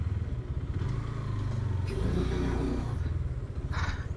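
A Hero Hunk 160R 4V naked sport motorcycle is ridden slowly around a small test-ride area, its engine a steady low throbbing drone that swells slightly midway, heard close with a faint clatter.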